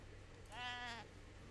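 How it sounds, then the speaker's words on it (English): A single sheep bleats in the Age of Empires 3 strategy game, a wavering half-second cry at moderate volume over a faint steady background hum. "Looks like he has a few sheep here, 3 maybe."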